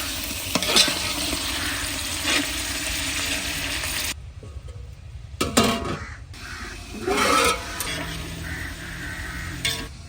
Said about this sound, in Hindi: चिकन को हम अच्छी तरह से भून लेंगे